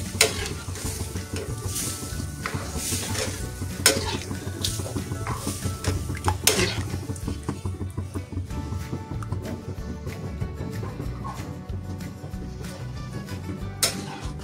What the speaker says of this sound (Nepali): र डल्ला पर्छ भनेर बिस्तारै यसलाई चलाउने।